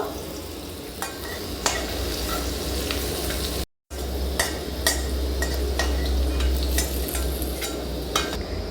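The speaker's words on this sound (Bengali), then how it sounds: "কুমড়োটা এখানে আমি ভালো করে ভেজে নিয়েছি।" Raw pumpkin fries in a pan with a steady, loud sizzle, broken by sharp scrapes and clacks of stirring at irregular intervals and one brief cut-out of silence midway.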